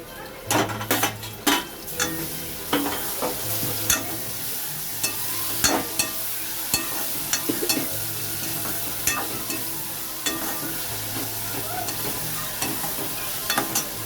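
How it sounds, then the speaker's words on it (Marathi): Finely chopped tomatoes go into dal khichdi in a pan, with repeated scraping and stirring clatter over a steady low sizzle, loud and close, no talking. "आता आपण 2 टॅमॅटो बारीक चिरलेले टाकूया"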